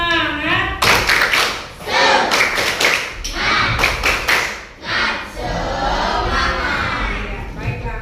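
A classroom of children does a rhythmic tepuk semangat spirit clap, with bursts of synchronized clapping, desk thumps and shouted chants. The children's loud group voices rise between the claps.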